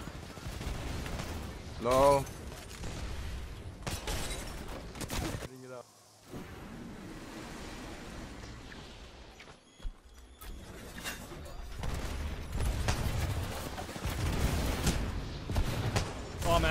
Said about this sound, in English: No, they're shooting it out.